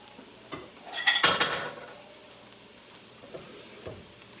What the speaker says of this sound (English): So now let me get my bowl for my eggs.